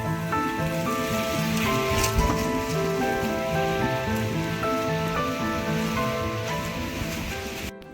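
Steady monsoon rain pours at Tung Fort near Lonavala, a dense continuous hiss that holds for the whole stretch under a layer of tonal music.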